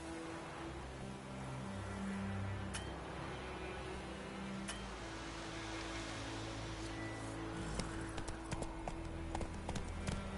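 Horse hooves clopping at a trot in The Witcher 3, a soft, even beat under low steady ambience, growing a little sharper toward the end.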